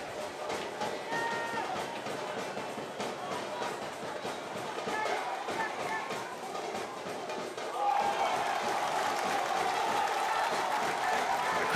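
Football stadium crowd at a World Cup qualifier between Cape Verde and Central African Republic applauding and cheering a hard challenge, a steady broad roar that swells louder partway through, with faint voices mixed in.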